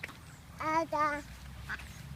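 A duck lets out two close, nasal quacks in quick succession, near and clear over faint background noise.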